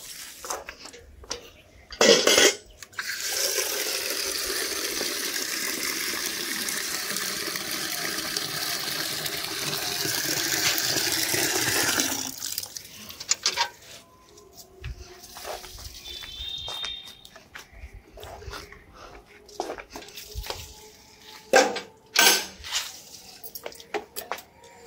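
Cold water is poured onto dried-out potted plants on a rooftop, making a sustained splashing gush for about ten seconds, then sporadic drips and clatters with brief bursts of activity nearby.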